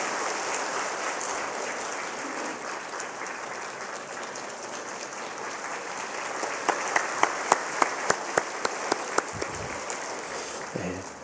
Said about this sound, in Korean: 우리 뜨거운 박수로 축하하면서 확장을 전해드리겠습니다.